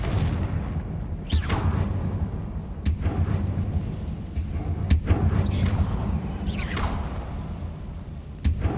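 Spell blasts from a Hogwarts Legacy wizard duel, including the Confringo fire spell, land as several sharp whooshing bursts and booms over a constant rumbling game backdrop, with repeated crisp impacts spaced a second or so apart.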